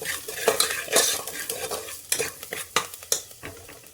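Garlic, turmeric and salt being stirred in a pan for mutton masala, with repeated sharp scrapes and clinks of a spoon over a soft background sizzle.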